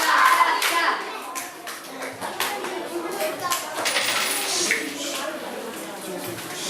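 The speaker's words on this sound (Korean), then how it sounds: "박수 세 번 시작" Children at a Sunday school worship service clap in short counted bursts on cue, sharp handclaps in small clusters mixed with kids' voices and chatter.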